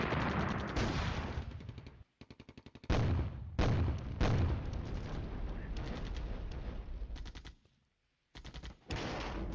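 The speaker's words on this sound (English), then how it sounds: "Even those little mortars are just raising hell." Mortar fire and battlefield gunfire in the war strategy game Flashpoint Campaigns Red Storm, a dense and loud rattle of rapid shots and blasts that goes on almost without a break, cutting out briefly twice, with no voices.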